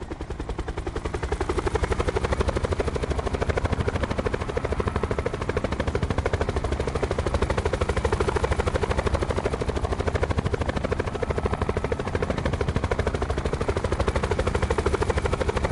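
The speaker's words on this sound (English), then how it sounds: "My helicopter." A helicopter in a video game drones continuously with a loud, dense rotor chop throughout, steady and close, with faint gunfire mixed into the noise.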